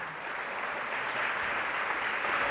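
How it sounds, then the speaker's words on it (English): A high school spring band concert audience gives a round of applause for the school woodwind choir, a dense, even wash of clapping that holds steady and swells slightly across a couple of seconds. "One more round of applause for our School Woodwind Choir."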